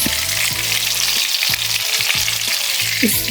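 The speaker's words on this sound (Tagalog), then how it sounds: "So, magpiprito ako ng uulamin ko ngayon" Duck pieces frying in a pan, a dense, steady sizzle crackling close up, with several brief scrape-and-stir sounds at a regular pace and no talking.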